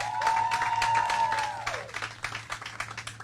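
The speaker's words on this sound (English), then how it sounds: "we'll clap for all of them, absolutely." An audience claps for state legislators and leaders at a Martin Luther King Jr. Commission conference in Little Rock, Arkansas. The applause is moderate and fills the room, holding strongly before tapering into scattered claps over a low hum.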